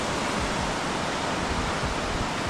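Small ocean waves break steadily along the shore at Makah Bay, Washington, heard from a kayak as a continuous broadband wash with soft low surges and no clear pauses.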